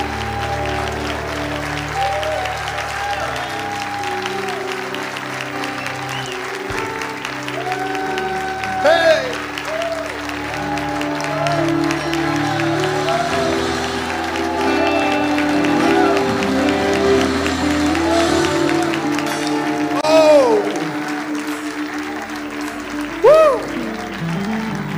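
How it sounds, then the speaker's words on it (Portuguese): Strong, sustained applause from a church conference audience, steady across the clip with occasional cheers rising above it and music and a voice underneath. "Vocês podem dar um aplauso bem forte."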